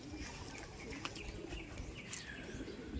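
Pigeons coo softly in a pigeon loft, with a few chirps and wing flutters mixed in. The sound is faint and close, and no one is speaking.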